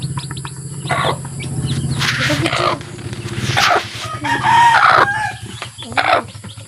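Poultry on a farm call out, with clucking, crowing and bird chirps rising and falling in irregular bursts over several seconds, fairly close and loud, with steady background noise.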